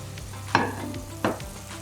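Okra (bhindi) frying in a pan for a chicken karahi is stirred, giving a steady soft sizzle broken by two louder scraping strokes of the spoon, close up with no talking.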